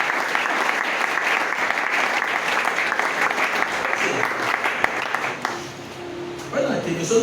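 A church congregation breaks into sustained, dense applause for several seconds, loud and close, which thins and fades near the end.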